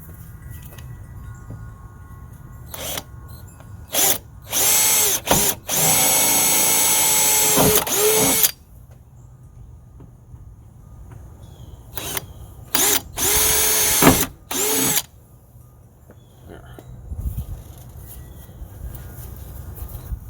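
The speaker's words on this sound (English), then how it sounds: "Now I'm going to use a small drill bit to start it." A power drill with a small bit whirs in several bursts, short stabs and a few longer sustained runs, loud and close, separated by quiet pauses, starting a hole for a rivet nut on an OBS Ford F-150 Flareside.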